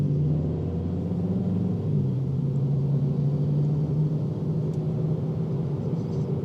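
A 2025 Kia K4 GT-Line Turbo accelerates normally in normal drive mode, a steady, low engine drone and road rumble heard from inside the cabin, with the engine tone shifting slightly partway through.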